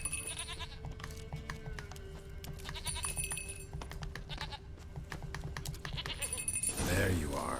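Bleats from a goat in The Witcher 3: Wild Hunt, heard as short calls over ambient game music and clicking sounds, rising to a louder burst near the end, with a voice speaking in places.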